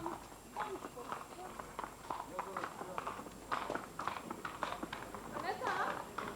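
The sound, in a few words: racehorses' hooves clip-clopping in a training stable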